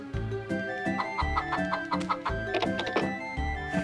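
Chickens clucking in the farming video game Harvest Moon: Save the Homeland, a steady run of short, close clucks over a continuous bed of cheerful background music, with no talking.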